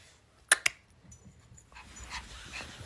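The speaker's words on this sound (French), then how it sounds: "Il pète les plombs, ce chien" An agitated dog pants and whimpers close by, with two sharp clicks or snaps at the start followed by faint, uneven breathing and soft whines.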